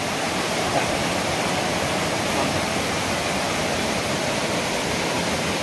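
Cold water of a village stream rushes in a dense, unbroken wash of noise where clothes are being washed, steady and loud with no voices standing out.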